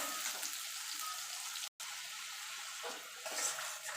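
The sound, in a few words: ginger and green chilli frying in a pan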